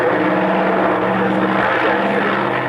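A propeller fighter with a powerful R2800 radial engine flies past at the RAF Coningsby airshow, its loud, continuous droning roar holding steady throughout the short stretch with no voices.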